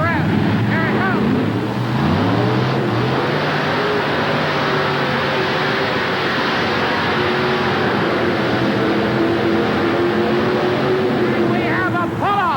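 Alcohol-fuelled pulling tractor roaring down the track at a 1988 truck and tractor pull in Hampton, Virginia, the engine climbing through its revs in a steady, distant howl under crowd noise, with someone talking over it.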